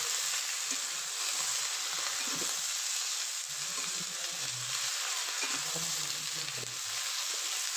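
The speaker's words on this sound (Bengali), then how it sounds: "এইভাবেই আমি ভাজবো।" Vegetables frying in a pan for a fish curry, a steady hissing sizzle throughout with occasional soft stirring scrapes underneath.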